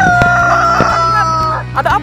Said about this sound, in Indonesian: Ini ayam, teman-teman.